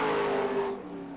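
A super sedan race car roars past on a speedway track, loud and close at first, then its engine note drops and fades as it pulls away.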